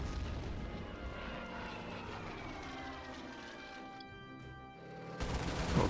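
Fighter aircraft roar in the wargame Order of Battle: Red Steel, a sustained engine drone with sweeping tones that shift slowly. A louder burst of noise cuts in near the end.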